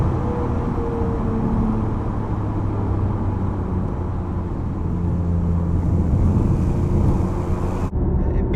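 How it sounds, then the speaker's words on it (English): A BMW i8 engine with a Quicksilver stainless valved exhaust, valve shut in comfort mode, drones as a steady, muted low rumble at moderate level throughout, cutting off sharply near the end. "If I put it back into comfort now, you'll hear the valve shuts and the engine noise is minimised"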